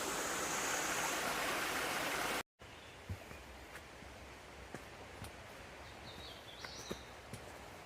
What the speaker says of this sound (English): now we're crossing the Eureka Creek